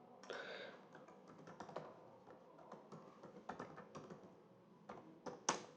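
Brisk typing on a computer keyboard while entering a search term in an Excel fee management sheet, a close, quiet run of uneven clicks and taps with no speech.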